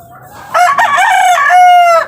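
A rooster close by lets out one loud, full cock-a-doodle-doo crow among backyard hens, after a brief low cluck beforehand.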